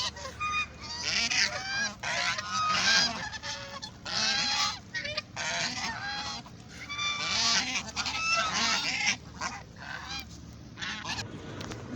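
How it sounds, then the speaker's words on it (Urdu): A flock of ducks at Bahria Town, Karachi, honks and quacks loudly and nearly nonstop, with many overlapping calls close by and no talking. "یہ دیکھیں یہ بطخ ہیں، ساری ڈکس ہیں"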